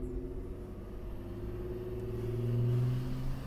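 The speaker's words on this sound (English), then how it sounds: "You'll hear the supercharger start to build up boost" A supercharged Jeep Wrangler JK Rubicon engine idles and rumbles at low pitch, then rises briefly in a revving supercharger whine before settling, heard from inside or near the vehicle.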